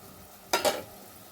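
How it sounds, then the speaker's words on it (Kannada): Vangibath, a brinjal rice, being fried with vangibath spice powder, a quiet background sizzle broken by two quick scraping stirs in the pan. "ವಾಂಗಿಬಾತ್ ಪೌಡ್ರು ಜಿಂಜಿಬಾತ್ ಪೌಡರ್ ಹಾಕಿದ್ಮೇಲೆ ಸ್ವಲ್ಪ ಹೊತ್ತು ಚೆನ್ನಾಗಿ ಫ್ರೈ ಮಾಡ್ಕೊಳ್ಳೋಣ"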